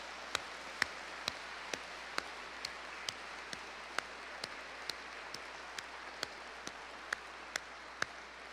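One man applauding himself with sharp, evenly spaced single hand claps, about two per second, over a quiet hiss.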